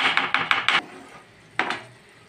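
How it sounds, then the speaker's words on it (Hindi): Cooked, softened tomatoes chopped in a pan with the edge of a spoon, a quick run of four or five sharp metallic taps followed by a pause and two more, close and clear with no talking. "अब हम चमचे की किनारे से इन टमाटरों को थोड़ी देर कटाकट कर लेंगे।"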